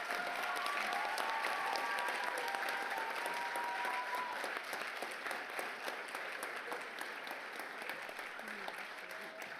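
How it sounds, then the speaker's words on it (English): Audience applause at a university leadership awards ceremony, a broad sustained round of clapping from a large crowd, loud at first and easing slightly, with a few faint voices underneath. "Can we give another round of applause?"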